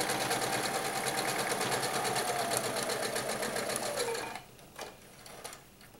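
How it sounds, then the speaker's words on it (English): A sewing machine stitches a fabric pocket face mask, a rapid steady whirring run for about four seconds before stopping, followed by a couple of faint brief clicks. "So I move my needle all the way over to the far side and I'm going to stitch."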